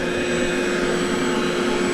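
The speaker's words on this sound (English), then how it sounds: "as you can hear, we got the vacuum going" A vacuum runs steadily beside a swimming pool, holding the new vinyl liner against the wall, a loud continuous whooshing drone with a constant hum, close and unchanging.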